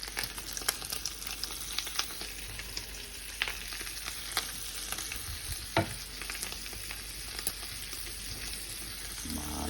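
Speck sizzles softly in a pan over lowered heat and is stirred now and then, a steady close crackle with occasional scrapes and clicks of the utensil, no talking.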